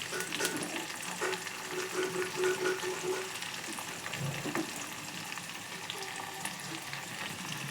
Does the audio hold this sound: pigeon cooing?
no